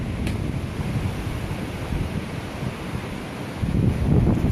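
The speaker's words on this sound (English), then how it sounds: "It's pretty windy." Strong wind batters the microphone on the main range of Mount Cordeaux, a loud, unbroken roar that swells near the end, with no voices.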